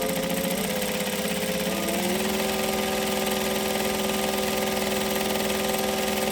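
A sewing machine stitches fabric with a steady, continuous motor whir whose pitch shifts slightly early on, then holds evenly, with no talking.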